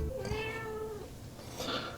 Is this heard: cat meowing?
yes